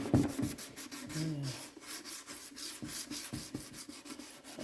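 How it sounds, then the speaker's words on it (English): A car headlight lens is wet-sanded by hand with a Turtle Wax restorer kit, giving steady back-and-forth rubbing strokes, soft and close, in a continuous rhythm. "sanding, it always involves sanding."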